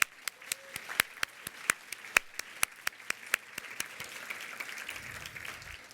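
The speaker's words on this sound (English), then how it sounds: "give a big round of applause to our key sponsor" A steady round of applause at a philanthropy summit keynote, many hands clapping at once with sharp overlapping claps, moderately loud and continuous for several seconds.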